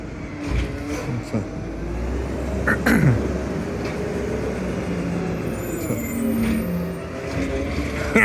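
An EDCO Waste McNeillus ZR garbage truck works the street, its engine rumbling steadily with hisses of air brakes and mechanical clanks over constant road noise.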